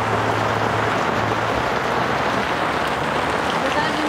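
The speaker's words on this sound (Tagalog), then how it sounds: "Ayan, umulan." Rain falls on a tarp at a beach campsite, a dense, steady hiss with close pattering and a faint low hum underneath, unbroken throughout.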